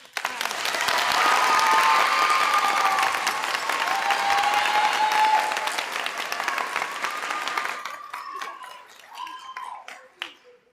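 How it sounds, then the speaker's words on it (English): Audience applause for the accompanist at a spring school concert, a full burst of clapping that fades after about six seconds into scattered claps and a few voices. "a big round of applause for our accompanist, Mary Zubert"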